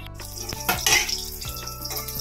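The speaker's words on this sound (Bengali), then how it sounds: "এখানে ক্যাপসিকাম ভাজা 2-3টে হয়েছে, আর এখানে বাকিটা ভাজা হচ্ছে" Capsicum sizzles in a frying pan, with a spatula clinking and scraping against the metal several times over the steady hiss, heard close up.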